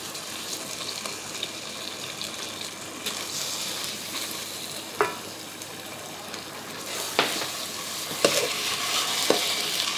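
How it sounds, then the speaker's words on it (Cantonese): Scallops pan-frying in a little oil, a continuous hiss and sizzle with a few sharp clinks and taps from a utensil near the middle and end, no talking. "跟住我就擺啲帶子落去啦"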